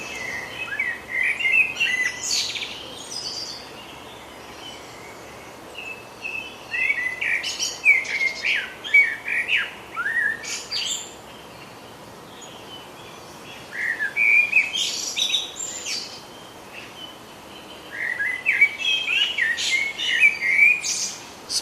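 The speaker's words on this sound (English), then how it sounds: "This is an unknown blackbird song." An unidentified blackbird sings outdoors in repeated phrases of fluting, whistled notes separated by pauses, clear and moderately close against a soft background hiss.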